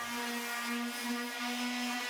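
A steady, high-pitched motor whine drones without pause, like a power sander running against wood, close and continuous with no talking.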